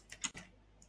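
Several quick keystrokes on a computer keyboard, a short burst of close, crisp clicks followed by a faint lone tap near the end.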